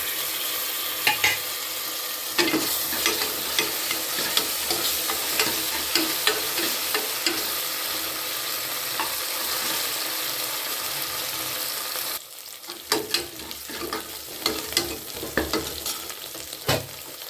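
Ginger and garlic fry with browned onions in a pan for mutton kulambu, a loud crackling sizzle under repeated scraping stirs from a spatula, briefly softer before the rhythmic stirring resumes.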